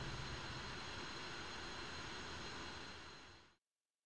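Twin jet engines of an F-5E Tiger idling in the DCS flight simulator, a loud steady broadband whine and rumble that holds constant, then fades out quickly near the end and cuts to silence.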